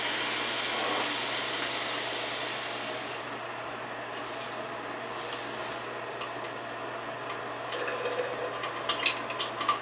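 Water squirting from the rim holes of an old flushing toilet gives a steady hiss and rush that eases off partway through, then comes sharper drips and splashes near the end, close and without talk.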